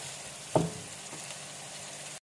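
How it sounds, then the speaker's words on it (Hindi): Potatoes and eggplant frying in a pan give a steady, soft sizzle with a brief clink near the start, and the sizzle stops abruptly at the end. "तो अब मैं इन सारी इन वेजिटेबल्स को कर लूँगी फ्राई अच्छी तरह से।"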